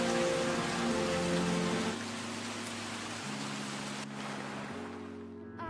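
Heavy rain in a film scene, a dense steady downpour hissing across the whole span alongside sustained musical tones that shift pitch, moderately loud with no speech.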